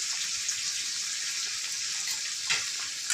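Ginger-garlic paste with cumin, coriander, turmeric and chilli powders frying in oil for muri ghonto gives a steady, close, hissing sizzle, with a slight flare of crackle near the end and no talking.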